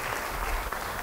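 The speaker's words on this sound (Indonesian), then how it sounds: "Beri tepuk tangan bagi dia." A church congregation claps together during a sermon, a dense, even burst of many hands heard steadily for a brief moment, with no speech over it.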